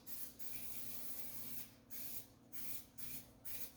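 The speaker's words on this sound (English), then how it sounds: "I'm just gonna use my spray grease." Bursts of cooking spray hissing steadily as it greases an 8 by 8 inch pan, a long continuous spray followed by several shorter bursts with brief pauses between them.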